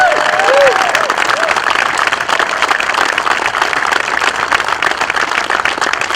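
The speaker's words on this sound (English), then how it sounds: "So how about one more round of applause for Chief Llewellyn?" A crowd at a fire chief's retirement ceremony breaks into sustained applause, steady dense clapping filling the room from start to finish, with a little cheering mixed in.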